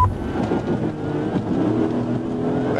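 A Cadillac speeds away at night with its lights off, fleeing a police trooper: a steady, loud engine roar held throughout, with no talking.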